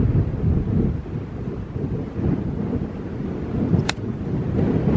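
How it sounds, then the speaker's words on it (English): Wind gusts buffet the microphone on an open golf course, a continuous low rumbling roar that swells and fades, loud and close, with no talk. "A lot of wind up there."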